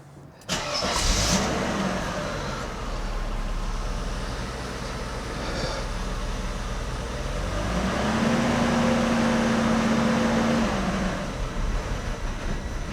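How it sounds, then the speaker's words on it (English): A Mercedes 300CE engine cranks and catches, then settles into a rough, steady idle, close by and loud, with a brief rise in revs later on. No one speaks. "So let's just start up the car and see."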